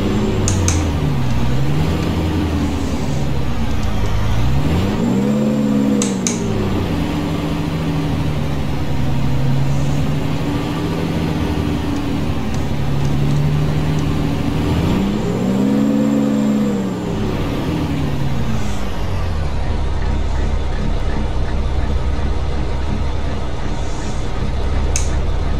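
A loud truck engine in American Truck Simulator drones steadily throughout, rising and falling in pitch twice as it revs through gears, with no talking.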